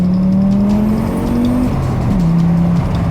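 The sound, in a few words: five-cylinder car engine running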